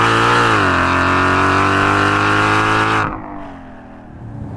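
Shelby GT500 engine revving hard under acceleration, a loud close sustained roar with rising pitch before an abrupt gear shift drop, then the engine settling into a lower growl.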